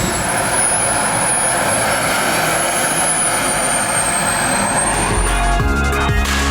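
Large, powerful remote-controlled model airplane engine running at a steady, loud roar with a high whining tone on top, heard up close in Lahore, the pitch wavering slightly before a shift near the end.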